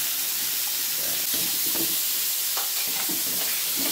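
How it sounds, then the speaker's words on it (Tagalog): Tomato, garlic and ginger sauté in a hot pan as the base for tuna sinigang sa miso, giving a steady sizzling hiss with intermittent stirring scrapes close by. "Gisa tayo ng kamatis. Just bawang. Konting luya."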